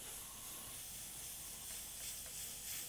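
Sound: airbrush spraying sepia brown paint on pickup artwork

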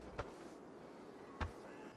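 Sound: slow-move footstep sound effect in Arena Breakout video game

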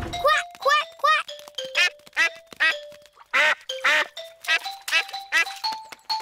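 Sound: cartoon character imitating duck quacking

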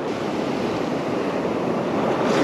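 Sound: wind and surf on beach

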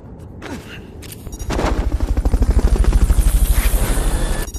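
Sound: helicopter in video game Metal Gear Solid: Peace Walker

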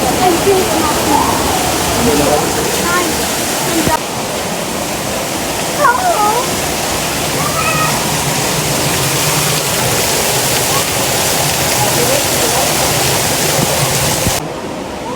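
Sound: small waterfall at a zoo

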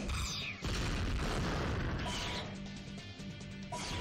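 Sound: mega explosion attack in video game Mega Man X7

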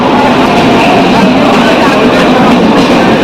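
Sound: train running loudly

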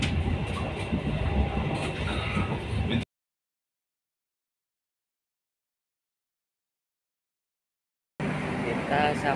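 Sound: Gajayana passenger train running on rails

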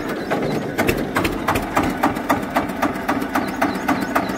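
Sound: Eicher tractor engine running

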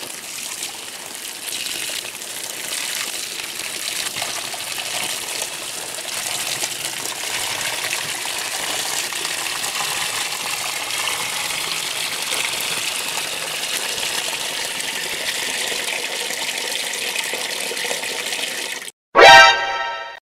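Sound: Maytag commercial washer filling with water, warm wash

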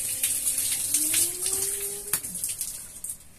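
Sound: hot water running from shower tap

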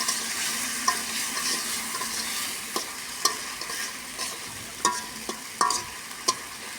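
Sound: stir-frying pigeon curry in a covered pan

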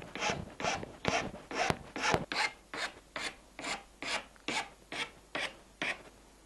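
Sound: metal file filing a cone shape into a rod end

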